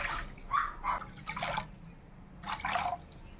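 Water is poured for making strawberry gulaman jelly, heard as several splashy, trickling bursts of pouring with brief pauses between them.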